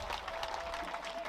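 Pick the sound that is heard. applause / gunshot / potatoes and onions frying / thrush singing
applause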